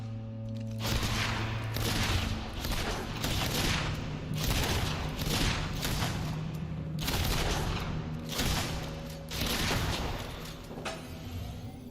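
Repeated gunfire from the video game Fable II, a steady stream of loud bursting shots across the whole stretch, with an electronic hum underneath and no talking.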